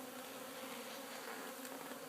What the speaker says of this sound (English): These are robber bees.